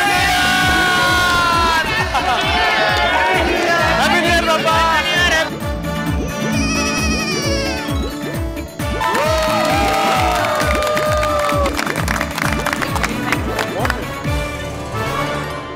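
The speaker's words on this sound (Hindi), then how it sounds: "अरे चाचा जी के लिए जोरदार तालियां।" A crowd at a New Year celebration cheers and claps loudly for an uncle, with dense applause, yells and whoops going on steadily throughout.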